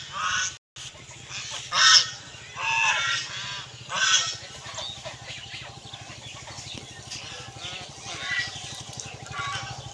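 Domestic geese or ducks honk repeatedly at close range in a rural outdoor spot, with loud calls coming in bursts and quieter stretches between, and a person speaking over them.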